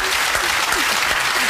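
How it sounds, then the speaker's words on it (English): Applause in a busy cooking competition studio kitchen, a dense steady patter of clapping from a studio audience that fills the moment, with faint voices underneath. "Go on, clap him."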